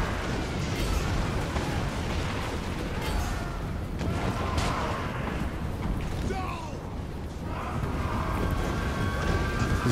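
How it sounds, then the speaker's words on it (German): Bombs in the video game Total War Warhammer detonate amid a siege battle, a continuous dense rumble of booming explosions and crackling impacts layered under game noise, loud throughout with occasional sharper bursts. "jetzt knallt hier alles"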